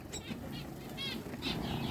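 Small birds, including canaries, finches and silverbills, flapping their wings in an aviary, several quick fluttering bursts close by with light chirps between them.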